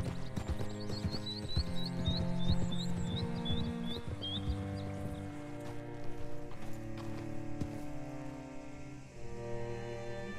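Horse hooves clip-clop steadily in Red Dead Redemption 2, set against the game's layered music with bird chirps above and an occasional whinny.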